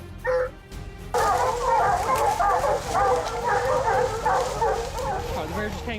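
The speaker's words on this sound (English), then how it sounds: "they chase it and bark loudly, alerting the hunter" Hunting dogs chasing bears barking and yipping in a busy overlapping chorus, loud and close, with voices mixed in under the barking.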